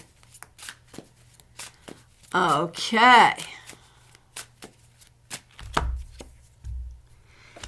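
Tarot cards shuffled by hand during a weekly reading, a short dense burst of riffling and flapping card noise in the middle, with brief taps around it and a voice speaking briefly.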